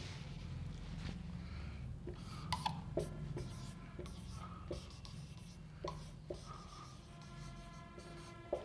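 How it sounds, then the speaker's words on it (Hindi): A marker or chalk writing a name on a board, with scratchy strokes and small taps in an irregular rhythm, close and fairly quiet over a low room hum. "जीसस क्रिस्ट, नाम लिखना रह गया था"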